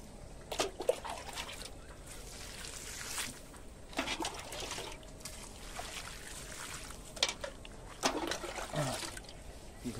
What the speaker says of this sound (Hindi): इसमें पानी देंगे